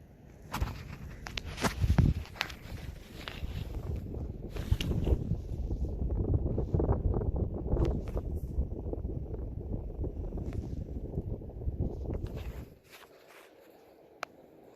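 A 36-inch hugger ceiling fan runs on high, giving a steady broadband whoosh of moving air with faint rattles and knocks, then cuts out abruptly near the end, leaving near silence.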